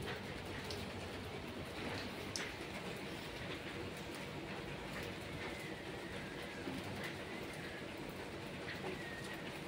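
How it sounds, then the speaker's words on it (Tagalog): Heavy winter rain falls steadily in Israel, a dense continuous hiss of drops on surfaces that stays loud and unbroken throughout, with no voices over it. "Ang ulan dito, katulad din po ng ulan sa atin."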